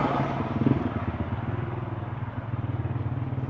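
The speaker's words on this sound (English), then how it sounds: "Sorry about the motorbike noise in the background." A motorbike passes along a busy street, its engine buzzing with rapid pulsing that swells and then fades as it moves off, moderately loud with no talking over it.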